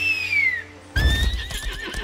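A horse in the video game Lost Ark whinnies loudly, then a second neigh follows over light hoof clopping and game ambience.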